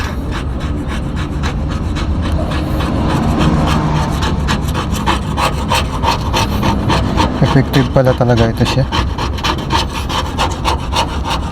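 Harsh, rapid rasping of sandpaper scraping paint off metal down to bare metal, a steady back-and-forth grind, loud and close, with a brief spoken remark partway through.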